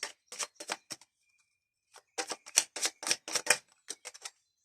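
Angel oracle cards drawn and flicked out of a deck for a reading, a run of quick crisp papery snaps and taps in uneven bursts with brief pauses, close and without talk.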